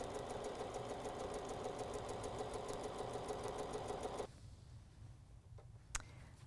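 Close sewing machine stitching quilt strips, a rapid even mechanical whir for about four seconds, then it stops and leaves quiet room tone with a couple of faint clicks.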